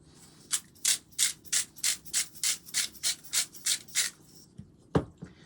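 Salt and pepper grinders being cranked over an egg dish, about a dozen evenly spaced rasping grinds in a steady rhythm, close and clear, followed by a couple of sharp knocks.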